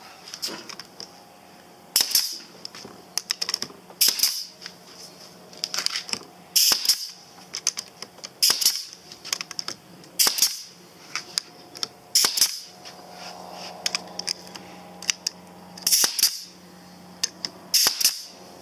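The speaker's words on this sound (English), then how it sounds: "I'm using a 5/8" brad, so that'll go in about halfway into the plywood." A brad nailer drives 5/8-inch brads into plywood during a hot tub repair. About nine sharp, snapping shots ring out at roughly two-second intervals, each close and crisp above a faint background hum.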